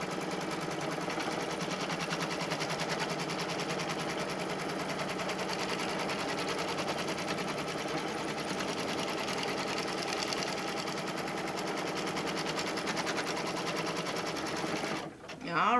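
Embroidery machine stitching a zippered pouch held in the hoop, a steady rapid mechanical whirring with fast needle strokes that runs unbroken for about fifteen seconds and then stops, with a voice talking over it.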